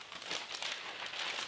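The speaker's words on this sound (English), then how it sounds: "You have to shuffle papers like news people do." Sheets of paper are shuffled and crinkled in quick, soft bursts, a faint, papery rustle with no voices.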